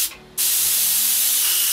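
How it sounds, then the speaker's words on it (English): An airbrush used for painting ceramics blows water through its nozzle to clear out colour, giving a loud, steady, close-up hiss that starts after a brief pause and holds evenly to the end. "So I'm just pushing through some water through there to clear the brush"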